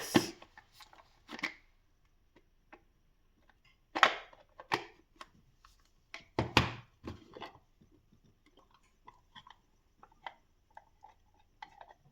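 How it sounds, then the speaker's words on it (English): Onions being chopped with a knife on a board for an egg ghotala, a series of crisp close knocks in short irregular bursts, with quieter scattered taps trailing off toward the end. "let's chop these onions"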